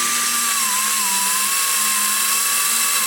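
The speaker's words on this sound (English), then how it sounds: "You can hear it pulling down the die grinder" A die grinder ports a cylinder head for a Holder Boulder 305 HO Stage IV build. Its high-pitched whine runs loud and continuous, dipping slightly as pressure loads it down, then recovering, with no talk.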